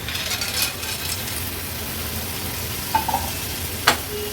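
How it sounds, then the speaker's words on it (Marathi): Clams are stirred into masala frying in hot oil for an Agri-Koli style seafood dish, giving a steady close sizzle with scraping stir sounds and a couple of light metallic clinks. "आता आपण ह्या शिवल्या ॲड करणार आहोत"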